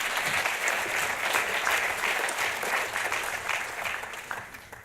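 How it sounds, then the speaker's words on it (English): A conference audience applauds steadily, dense clapping from many hands that holds for several seconds and then starts to thin out. "I will make you clap if that's okay"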